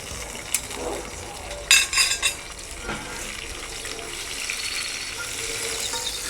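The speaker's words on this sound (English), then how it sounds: "Here the nettles go into the hot oil. They should sizzle like crisps." Hot oil sizzles and crackles as nettles drop into a pan, with a brief burst of spitting early on that settles into a steady, soft frying hiss.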